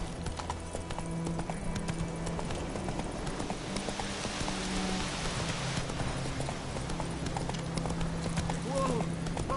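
Roach the horse galloping in The Witcher 3, hooves pounding in a rapid, steady clip-clop beneath rainy ambience, with voices speaking over the ride.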